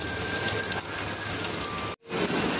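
Steady rain falling on surfaces, a dense even hiss throughout with a brief sudden dropout near the end before the downpour resumes.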